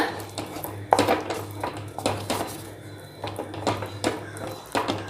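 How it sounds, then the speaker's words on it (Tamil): Rice flour halwa stirred with ghee in a nonstick pan, giving repeated close scraping and knocking strokes of a spoon against the pan in an uneven rhythm over a low steady hum. "இப்போ நல்லா மிக்ஸ் பண்ணி விட்டுக்கோங்க"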